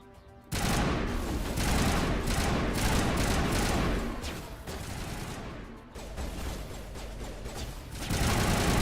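Sustained gunfire from a Mass Effect battle, dense overlapping shots and bursts running almost the whole time after a quiet start, loud and close with a brief lull midway.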